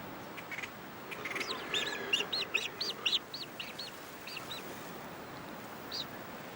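Dark seabirds with a pale crown patch call from a nesting colony, a run of nasal, honking cries rising and falling over a few seconds against a steady windy or surf-like background hiss, with a single later call.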